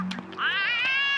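A cat in The Sims 2 gives a single loud, drawn-out meow, a rising and wavering cry lasting about a second, close and clear with no talk over it.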